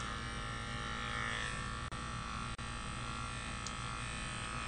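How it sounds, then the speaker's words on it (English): Small electric clippers buzz steadily and fairly quietly as they trim the tip of a dog's ear, a constant hum broken by two brief dropouts where the blades pause. "That's where those little clippers come in handy."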